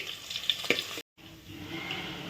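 Curry leaves and crushed garlic fry in hot oil in a home kitchen, giving a steady, close sizzle and crackle with a few sharper pops early on and a brief cut to silence partway through.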